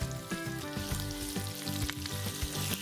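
Onions sizzling in hot oil along with popping cumin and mustard seeds, a loud, steady fry with crackles and a stirring scrape now and then, close up, with no talking.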